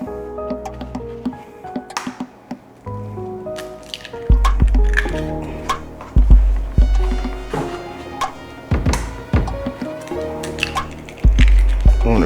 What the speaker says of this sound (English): I'm gonna go ahead, get my eggs cracked